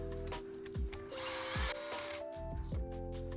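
A 10-32 screw being driven into a Talon Claw 4 stock with a power driver, with short bursts of motor whine and tonal buzzing separated by brief pauses, close and fairly loud.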